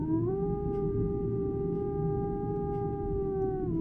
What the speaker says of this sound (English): The howl of a wolf or a beast.